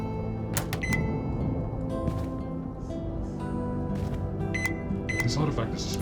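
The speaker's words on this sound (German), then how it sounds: "Come over here and pop it in the microwave." A microwave oven hums steadily inside a PC horror game, with bright beeps and clicks breaking through and a voice talking over it.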